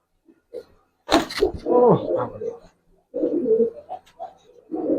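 A Giribaz pigeon at a home loft gives a few soft, intermittent coos between quiet gaps, with a sharp clattering knock early on and a faint voice now and then.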